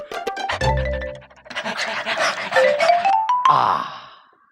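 A man imitates a dog panting with his tongue out, giving quick breathy huffs and throaty vocal bursts, up close and loud, with no real dog present.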